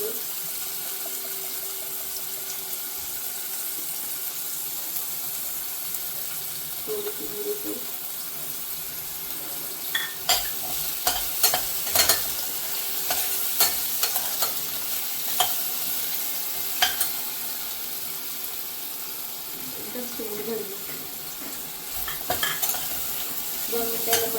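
Mixed vegetables stir-fry in ghee for baby mung khichdi, a soft continuous sizzle under scattered sharp clicks and scrapes of a spoon against the pan, with a voice speaking at times.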